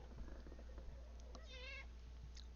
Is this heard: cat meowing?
yes